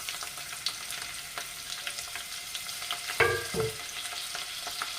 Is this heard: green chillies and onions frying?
yes